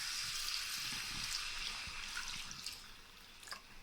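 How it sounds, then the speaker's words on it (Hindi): Water pours into a pot of chicken nihari, a steady broad splashing and trickling rush that stays close and even for several seconds, with no voices. "चलिए जी पानी ऐड करते हैं।"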